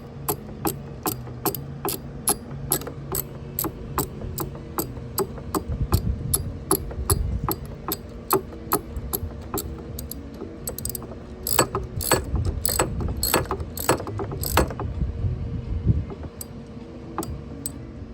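Repeated ratchet-and-pawl clicking from a hand ratchet rigged into a makeshift tool to pull the trim/tilt motor part on a 1974 13-foot Whaler, steady rhythmic ticks over mechanical creaks, close and fairly loud throughout.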